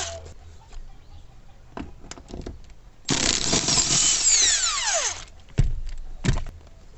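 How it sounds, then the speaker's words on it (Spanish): Power tool whirring as a 14 socket removes rear seat bolts on a Mitsubishi Sportero: a loud, sustained two-second run with rising and falling pitch, set between softer clanks and knocks, nearby. "Aquí llevan unas tapaderas de plástico cubiertas que las vamos a desmontar para poder quitar los pernos traseros"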